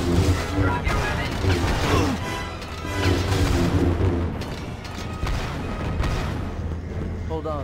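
Booming cannon turret blasts and mechanical clanks from the video game Star Wars: Revenge of the Sith, layered with music and voices, loud and dense throughout.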